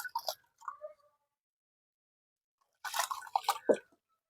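Two handfuls of soil mixed into a container of water for a microbial plant-reviving liquid, giving short wet squishing and dripping bursts, one brief cluster at the start and a denser splashy stretch later, with silence in between.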